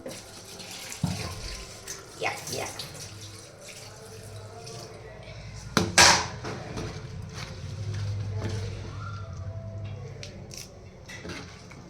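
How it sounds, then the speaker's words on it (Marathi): Tap water runs into a kitchen sink while a grater is washed, a soft steady splash with a few knocks and one sharp clatter midway, and someone talks over it. "आता याला मी स्वच्छ पाणी धुवून घेते"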